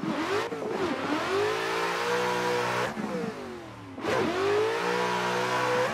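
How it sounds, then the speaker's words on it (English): A Nissan Silvia S15 in a racing video game revs hard through several gear changes, the engine note climbing then dropping sharply at each shift, loud and close with no talking. "So we're gonna see what we can do in the S15 here."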